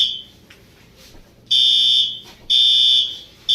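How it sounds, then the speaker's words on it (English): An apartment fire alarm sounds in two loud, steady high-pitched beeps of about half a second each, separated by a pause, over a quiet room background. "the fire alarm went off at my apartment."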